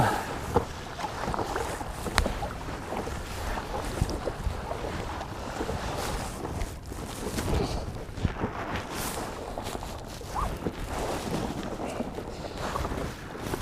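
A kayak bumps across the wake of a passing boat off the Cornwall coast near an estuary: continuous splashing and slapping water mixed with gusty wind buffeting the microphone, close and fairly loud throughout.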